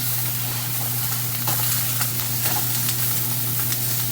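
Italian sausage sizzles steadily in a pan for a Thanksgiving dressing, a continuous close frying hiss with scattered crackles and soft scraping as the meat is broken up, plus a low steady hum underneath; no one speaks.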